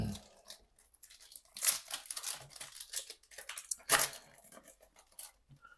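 Crinkly tearing and crumpling of a Panini Contenders basketball trading card pack's foil wrapper being opened by hand, with sharp rips near 1.7 and 4 seconds among quieter rustles, close up and without talk.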